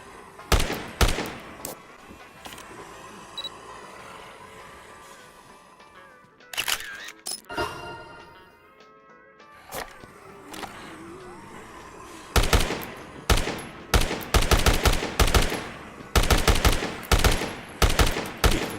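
Rapid bursts of gunfire from the video game Dead Rising, loud clustered shots in quick runs separated by brief lulls, with heavy volleys near the start and a dense rapid string toward the end.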